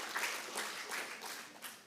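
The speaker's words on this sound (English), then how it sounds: "I think they deserve a round of applause for helping out today" At a university public lecture, a small audience gives a faint, brief round of applause for the helpers who organized the day, a soft, distant wash of clapping.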